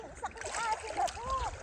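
A dog swims and splashes in a river, giving close watery sloshes and splatters while people talk and call out nearby.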